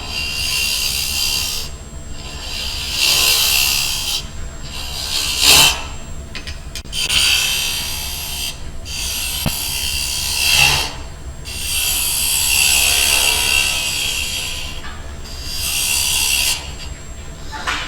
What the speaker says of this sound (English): I'll take my little trusty bowl gouge here. All this wood's got to go anyway